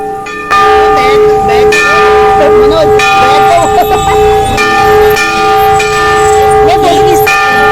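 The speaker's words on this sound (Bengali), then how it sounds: "ঘণ্টাধ্বনির মাধ্যমে চলুন মন্দিরে প্রবেশ করা যাক" Temple bells ringing loudly at the entrance of the Dhari Devi temple, repeated metallic strikes with long overlapping ringing tones that fill the space for several seconds, close and prominent.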